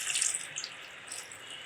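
Water poured into a chicken masala mixture while cooking a country chicken fry. It makes a short, bright splashing trickle, loud at first and then easing, heard alone.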